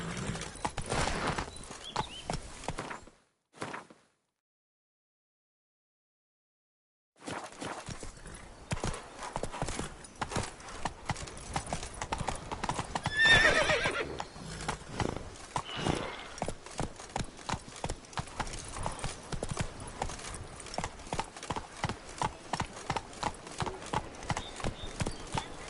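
In The Witcher 3, a horse trots with a steady, rapid clip-clop of hooves that runs almost the whole time. There is a short silent gap early on, then a brief whinny partway through.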